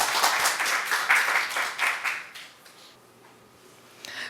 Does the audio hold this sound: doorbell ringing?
no